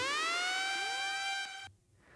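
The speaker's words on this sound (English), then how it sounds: "got a bit of a siren here as well. It's like a raising horn type of sound." A bright rising siren sweep from a tech house track climbs steadily in pitch for well over a second, then cuts off abruptly, leaving a faint tail.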